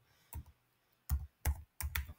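Several sharp keystrokes on a computer keyboard entering a number, a lone tap followed by quicker clustered taps, close and clear in an otherwise quiet room.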